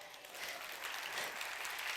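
An audience at a conference keynote claps in a dense, steady burst of applause that swells slightly and continues without pause, with no talking over it.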